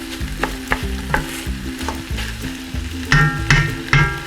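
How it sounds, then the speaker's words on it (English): Ground meat browning for chili in a pot over raised heat, a constant sizzle broken by repeated scraping and stirring strokes with a spoon, close and loud. "I turned up the temperature and try to get this a little browned"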